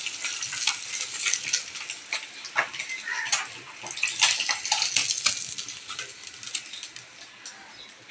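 Fish frying in hot oil in a wok gives a steady, close sizzle with crackling bursts and spatters throughout, with no talking over it.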